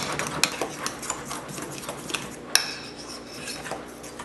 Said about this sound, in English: stir like this for probably about 30 seconds to a minute